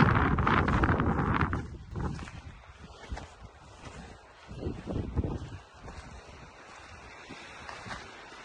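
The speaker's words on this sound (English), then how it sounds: "It's very windy today, isn't it?" Strong wind buffets the microphone on a snowy high mountain trail around 12,000 feet, a broad, gusting roar that swells and eases throughout, with no voices heard.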